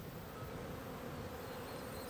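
Honey bees work kānuka bush in Waikato, New Zealand, making a steady, faint, continuous buzz with no break or voices.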